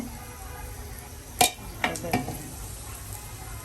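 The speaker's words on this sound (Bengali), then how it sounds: "মূলা কুচাইয়ে তারপরে এই যে বড়া বাজতেছে" Radish fritters fry in a pan with a steady soft sizzle, broken by a few sharp clinks and scrapes of a utensil against the pan, close and without talk.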